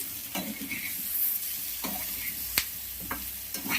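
Banana fry gets stirred in a pan, soft frying hiss broken by a few sharp spatula scrapes and taps at irregular intervals, fairly quiet with no voices.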